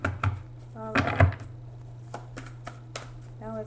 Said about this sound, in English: let me go ahead and shuffle the cards